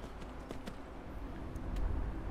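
Horse hooves clip-clop in the Skyrim video game, a faint, irregular patter of steps beneath a low, steady rumble of background noise.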